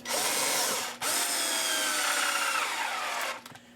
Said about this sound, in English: I'm going to be drilling a hole.